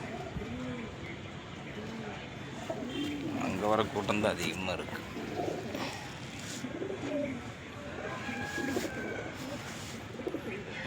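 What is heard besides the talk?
racing pigeons flying and cooing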